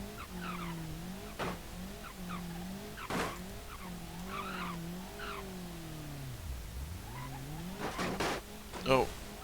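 In BeamNG.drive, an Ibishu Pessima 2.0 LX first-generation car rolls over wavy boards, its engine drone rising and falling with occasional tire squeals and thumps, while someone talks over it.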